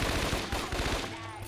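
Rapid automatic gunfire rattles in bursts in the video game Scarface: The World Is Yours, loud and close, with voices mixed in over the shooting.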